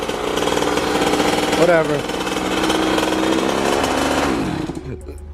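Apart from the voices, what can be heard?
KTM 50SX dirt bike engine running loudly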